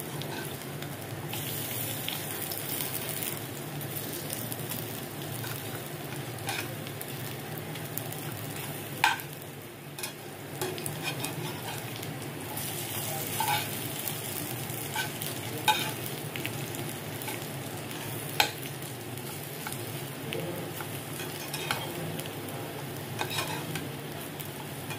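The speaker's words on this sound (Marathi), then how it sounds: "आता आपल्याला एक एक असं पलटी करून घ्यायचं आहे." Bitter gourd slices shallow-fry in a pan, giving a soft, continuous sizzle. Scattered clicks and scrapes come as the pieces are flipped one by one over low heat.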